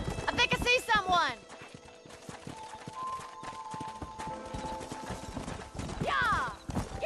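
A horse gallops in Red Dead Redemption, with steady rhythmic hoofbeats throughout and loud whinnies at the start and near the end, while people talk over it.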